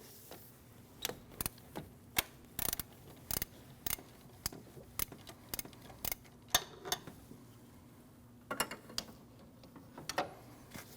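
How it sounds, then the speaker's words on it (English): A ratchet works loose the 14 mm tensioner pulley bolt on a Honda CR-V 2.4L, giving a run of sharp, quiet clicks at an uneven pace, close up, with small metallic knocks and no talking. "Now you need to remove your tensioner pulley, which is a 14 millimeter bolt."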